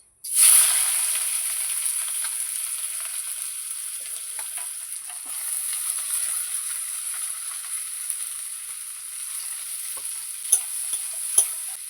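Onion sizzling in hot oil in a kadai with a bay leaf and fennel seeds for a mutton curry, a loud hiss bursting in at the start then settling into a steady crackle with occasional stirring clicks.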